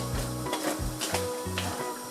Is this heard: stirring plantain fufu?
yes